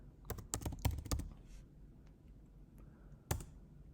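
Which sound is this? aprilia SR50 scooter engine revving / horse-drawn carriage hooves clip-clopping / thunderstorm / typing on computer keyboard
typing on computer keyboard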